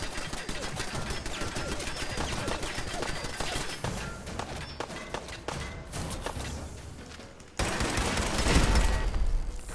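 Automated turrets in Fallout 4 at the Corvega Assembly Plant fire rapid, sustained bursts of machine-gun fire, dense rattling shots that continue for several seconds before a heavy thump and louder rumble.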